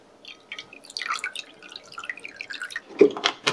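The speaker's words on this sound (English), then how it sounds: "then you put a little bit of cold water and vinegar in it" Cold water and vinegar are poured into a homemade sausage mixture, giving close, quiet trickles and scattered drips with a slightly louder splash near the end. No one speaks.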